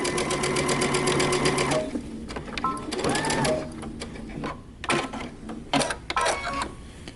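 A sewing machine stitches the opening closed on a dress made from two T-shirts, running in a fast, loud mechanical rattle, then continuing in shorter stop-and-start bursts separated by pauses and clicks.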